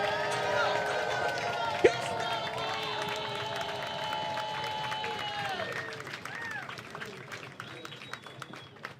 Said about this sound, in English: stamp those feet, clap those hands,